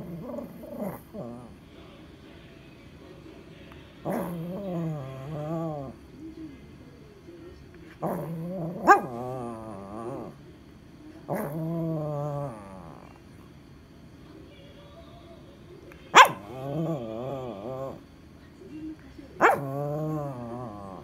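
A dog making drawn-out, warbling growls and whining vocalizations in short repeated bouts, close and fairly loud, as if talking to ask for food, with quiet gaps in between.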